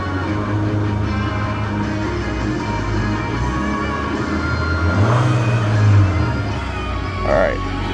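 A Nissan Sentra with nearly 98,000 miles, still smoking after a cold start, idles with a steady engine drone and rises in a couple of brief revs, while a voice speaks nearby.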